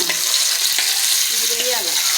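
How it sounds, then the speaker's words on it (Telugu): Onions fry in a pan with a loud, close, continuous hissing sizzle and a few faint scraping stirs, heard alone without voices. "ఈ ఉల్లిపాయలు కొంచెం దోరగా వేగాలి"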